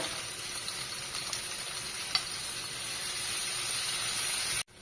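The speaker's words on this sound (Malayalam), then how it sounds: "വേപ്പില, കുറച്ച് ഉപ്പുമിട്ട് നന്നായിട്ട് വഴറ്റുക" Onions sautéing with curry leaves and salt for egg curry, giving a steady close sizzle and hiss with a few faint stirring scrapes, no voices, ending abruptly.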